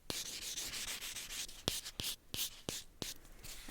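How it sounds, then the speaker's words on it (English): Nail buffing during a manicure, soft close rubbing strokes in an even back-and-forth rhythm, with a few sharper taps near the end, quiet and alone. "Okay, so that was the buffing."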